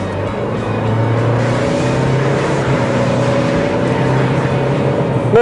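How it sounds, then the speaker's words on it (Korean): Nissan Qashqai with a small-displacement turbo diesel engine and CVT, pulling away in Drive: steady, loud engine drone and road rumble, heard from inside the cabin. "그럼 지금부터 닛산 캐시카이와 함께 달려보겠습니다"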